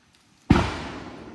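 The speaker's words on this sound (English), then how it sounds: "This is a huge mortar here, but I think it shoots 5 times." A large Fourth of July firework mortar shell bursts in a single sharp, loud explosion, followed by a short decaying rumble, with no voices.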